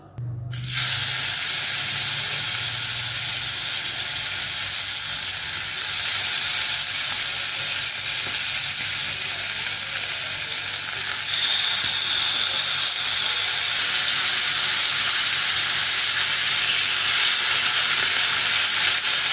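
Chicken pieces frying in a little oil on a tawa over low gas, a loud, steady close sizzle that hisses on without pause.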